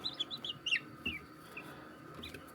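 Newly hatched guinea keets and a pea chick peep softly and close by, a quick run of high chirps at the start, then a few scattered peeps over low background noise.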